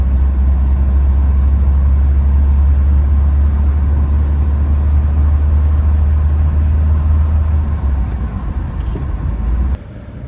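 A 1973 Citroen DS23 Pallas with a five-speed manual idles steadily, a deep, even engine rumble held close and loud for about ten seconds before a sudden slight drop in level at the end.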